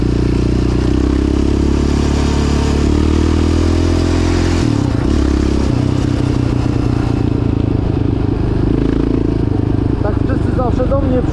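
A Yamaha Raptor ATV quad engine drones steadily and loud throughout a ride, with clatter and rattling over the terrain and a shift in engine note midway.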